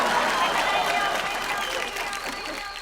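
Studio audience applause after a dance act on a televised dance competition, steady clapping throughout with a host's voice over it.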